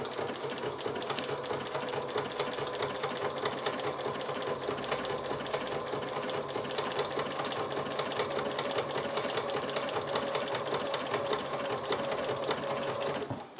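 Sewing machine stitching a chicken appliqué design, running steadily with a fast, even rhythm of needle strokes, close and continuous for the whole stretch before stopping at the end.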